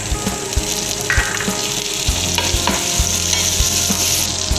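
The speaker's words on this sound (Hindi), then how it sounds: "अब मैं इसमें बटर ऐड कर रही हूँ।" Butter melts and sizzles steadily in a hot pan for a no-oven pizza base, a loud continuous crackle with occasional scraping taps from stirring.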